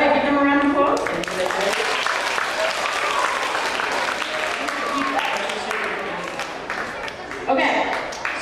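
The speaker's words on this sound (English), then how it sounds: "give them a round of applause" A middle school audience breaks into sustained applause, loud at first and gradually tapering, with a brief swell near the end and a voice speaking over it.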